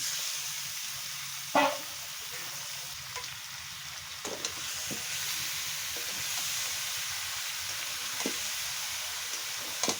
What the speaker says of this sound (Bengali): এইবার মাংসটাকে আস্তে আস্তে নাড়তে থাকবো